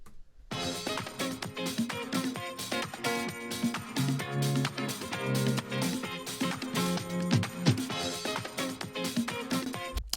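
Disco track playing as its original loop, a dense steady groove with punchy regular drum hits, bright layered instruments and a driving beat, continuous and unaccompanied by talk.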